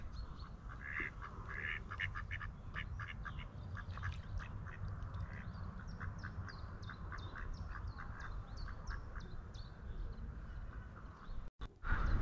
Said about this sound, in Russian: Уточки живут здесь и плавают.